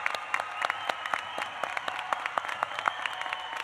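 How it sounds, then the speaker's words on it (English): Applause from the audience at a fall commencement ceremony honoring graduates, a moderate, fairly thin crowd clapping steadily with scattered sharper individual claps, heard from some distance in a large hall. "please join with me as we honor all these graduates with a well-deserved round of applause"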